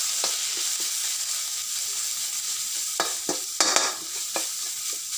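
Curry paste dry-roasting in a pan for a buffalo-tendon curry, a steady high sizzle broken by a handful of sharp scraping stirs near the end, close and fairly loud, with no talking.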